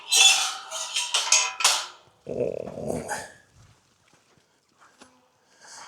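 Dogs bark, yip and growl close by on a Scottish hillside during a Munro hike, several sharp busts of barking followed by a low growling stretch, then mostly quiet with a few faint sounds.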